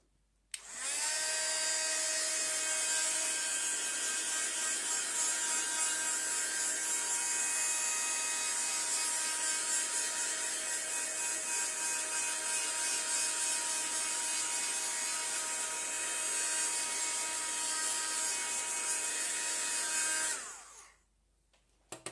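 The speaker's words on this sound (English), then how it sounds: "Let me just really quickly dry this up, so sorry about the noise again." A small electric dryer whirs loudly and steadily for about twenty seconds while drying paint, a close, high-pitched mechanical hum, then cuts off.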